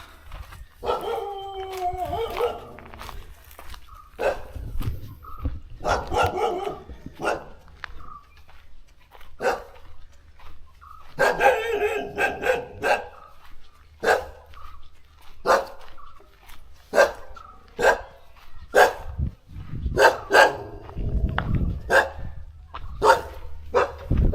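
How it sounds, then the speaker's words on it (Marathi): A dog barks again and again in sharp, uneven bursts on a forest trek near Karwar, fairly close, with a few whiny yelps mixed in early on. "आता पुढे अजून एक कुत्रा भुंकतो आहे"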